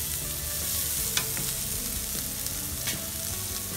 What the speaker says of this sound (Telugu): పచ్చిమిర్చి వేస్తున్నాము.